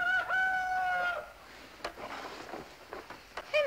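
A rooster crows loudly and nearby in a long drawn-out call, followed by softer clucks and another crow rising at the end, heard alone without speech.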